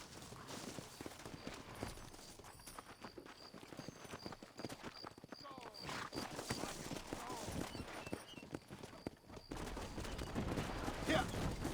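Horse hooves clip-clop steadily while riding in the video game Red Dead Redemption on PS5, a continuous rhythmic trot mixed with gunfire bursts and game sounds, with voices speaking over it.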